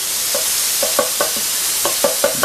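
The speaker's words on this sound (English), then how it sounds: "Grab your handle again and mix around until that's a bit golden brown." Food fries golden brown in a pan over a constant loud sizzle, while a utensil scrapes and stirs in a quick, irregular rhythm of about ten close clinks. No one speaks.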